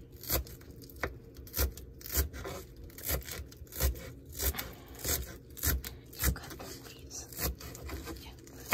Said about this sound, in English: Now we're gonna cut the parsley while we're waiting for the onions to brown.